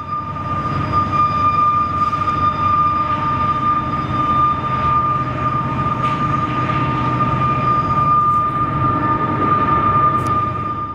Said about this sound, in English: As the rear of the first train was passing by us, we could hear another train coming from the north into the Curve.